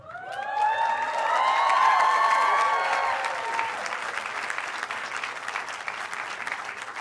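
Applause and cheering at a university sociology department graduation ceremony, a loud burst with whistles and shouts swelling early then settling into steady clapping from a large seated audience.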